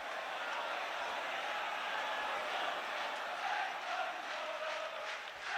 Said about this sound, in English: all the Liverpool fans penned in that corner applaud and give a standing ovation to the linesman